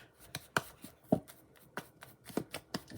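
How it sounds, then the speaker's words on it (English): A fork scrapes and taps through lumpy corn muffin batter from a boxed mix, giving a series of separate soft clicks and scrapes spaced irregularly, close by, with no talking. "I take a fork and I just go through the muffin mix really well and to get all the lumps and everything out"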